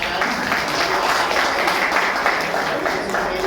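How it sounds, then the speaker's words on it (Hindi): Applause from a rally audience in Hindi-speaking India, a dense, steady wash of many hands clapping at moderate distance, sustained evenly throughout without a break. "और एक बार जोरदार तालियां बजा दें आप सभी लोग"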